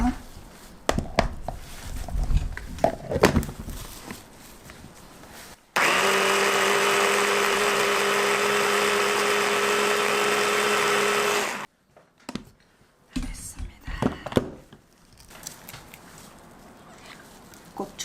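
A blender roars steadily for about six seconds, grinding garlic with a little water in a loud, even whir, with kitchen clatter and talking before and after.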